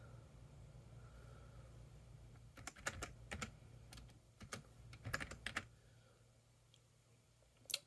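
Quiet bursts of computer keyboard typing, clustered key clicks in short runs entering Linux terminal commands on a Gole1 Pro mini PC, over a low steady hum with no talking.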